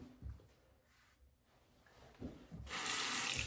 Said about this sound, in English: Under the hot water